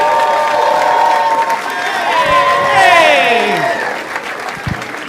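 Loud comedy club audience applause with cheering and whoops, sustained for several seconds with voices shouting over it, then thinning out near the end.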